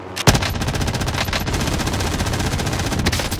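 Sustained rapid automatic fire from an MG82 machine gun in Call of Duty, a dense continuous rattle of shots lasting several seconds, loud and close, with no talking over it.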